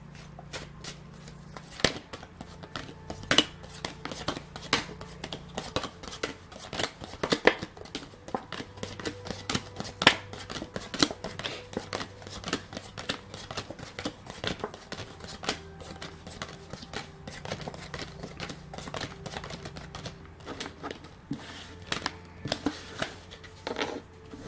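Tarot cards being shuffled by hand, a continuous run of close, crisp riffling flicks and soft slaps with steady rhythm, no talking.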